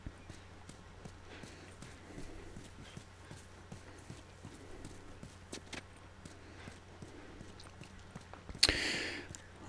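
A horse in The Last of Us video game gives a steady run of hoof clip-clops at moderate distance, with a brief louder burst of noise near the end and no one talking.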